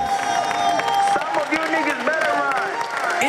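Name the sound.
audience applauding at an improv theatre show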